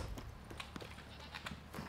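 Horse hooves clip-clop at a steady trot in The Witcher 3 video game, a quiet, even rhythm of soft repeated hoofbeats with no talk over them.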